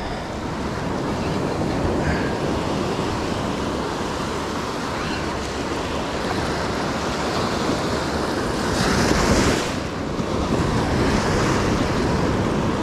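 Ocean surf breaking on a beach, a loud, constant roar of waves with one heavier surge near the end, mixed with wind buffeting the microphone.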